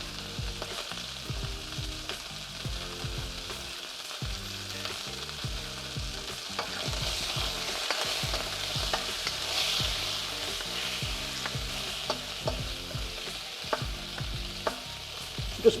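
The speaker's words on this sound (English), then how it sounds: "We just let it sear for 30 seconds, 40 seconds" Duck pieces searing in a hot pan give a steady, close frying sizzle with faint crackles, continuous and even throughout with no talking, while fat renders from the browning meat.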